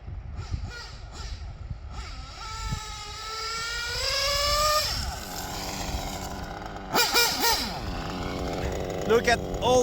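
An O.S. R21 GT nitro engine in a Sworkz GT2 RC car buzzes and whines at high pitch, revving up and down in bursts, while a person talks over it.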